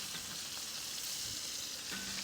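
Burgers sear in butter in a skillet on a Big Green Egg grill, with onions spooned on top, making a constant bright sizzle, loud and close, that runs unbroken through the clip.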